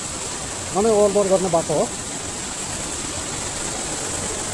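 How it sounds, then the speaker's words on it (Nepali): Heavy rain runoff pours over a washed-out road like a waterfall, making a steady rushing roar beneath a short spoken phrase. "यहाँनिर अब झर्ना फर्म भइसक्यो, रोडमा वाटरफल फर्म भइसक्यो हो।"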